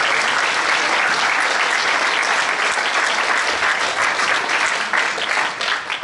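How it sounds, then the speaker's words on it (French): An audience at a political meeting in Beauvais breaks into sustained applause, dense clapping from many hands that carries on evenly before tapering slightly near the end. "Je peux l'applaudir."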